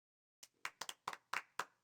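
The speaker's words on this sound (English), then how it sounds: "I don't think the applause is necessary." Clapping in the fighting game Persona 4 Arena Ultimax: a short run of about eight sharp, distinct hand claps with slightly uneven spacing, close and fairly quiet, following a brief silence.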